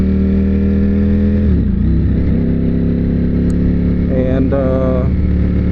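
A 2022 Ducati Panigale V4S engine idles loudly close by as a steady deep rumble, with brief revs that rise and fall partway through, under a few words of talk.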